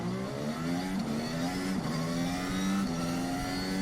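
A Renault Formula 1 car does a practice start during winter testing, its high-pitched engine revving steadily with rising pitch sweeps through the gears, continuous and fairly distant, with no talk over it.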